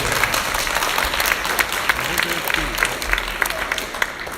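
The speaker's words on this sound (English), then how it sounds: "let's give Kira a big round of applause" Audience at a live legislative theatre event clapping steadily for a few seconds, a dense patter of many hands filling the room at moderate loudness.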